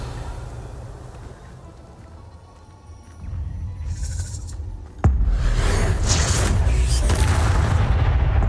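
A Confringo fire spell in the Hogwarts Legacy video game: a sharp booming blast at about five seconds, followed by a sustained loud crackling roar, after a quieter rumbling build-up.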